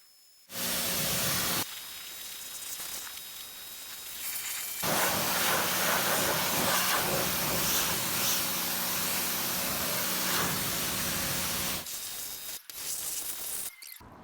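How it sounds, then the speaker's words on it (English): Pressure washer spraying water over a work truck, a loud broad hiss that starts and stops in several long bursts, with a steady mechanical whine beneath, on a cold day. "we're gonna spray it down with that thing"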